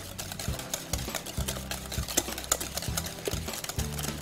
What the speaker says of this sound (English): Gonna mix that together really well